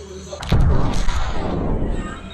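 Deep booming blast from an antimatter bomb in a video game, a sudden heavy thud swelling into a long rumbling roar, with a voice speaking over it.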